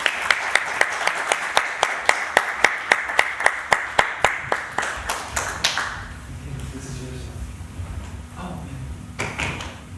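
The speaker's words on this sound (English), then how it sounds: "Let's give him a round of applause." An audience applauds at a devotional appearance day gathering, with a run of regular, fairly close claps that die away after about six seconds, followed by quieter room noise and faint voices.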